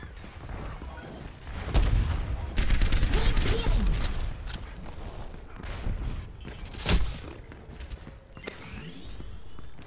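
Torbjörn's turret in Overwatch fires rapid strings of sharp automatic shots on the Numbani map, with dense bursts near the start and in the middle, broken by thuds, impacts and other game noise.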